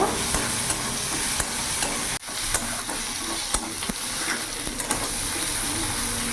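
Cumin, coriander and chili powder stirred in a frying pan, a continuous close sizzle with scraping and knocks of a spoon against the pan, no talk.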